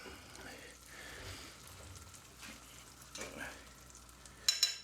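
Buttered bread for a tuna melt sizzles gently in a frying pan, a faint, steady crackle with soft stirring scrapes and a couple of brighter clinks near the end.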